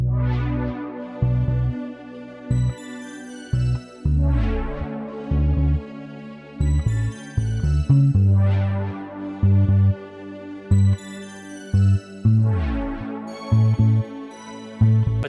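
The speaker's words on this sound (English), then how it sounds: "So I paired together these strings and bells to sound like this." A Roland JV-1080 synthesizer plays layered strings and bells in a stuttering, rhythmic pattern: bright bell chimes bloom and decay repeatedly over choppy, gated low string chords, clear and upfront, with no voices.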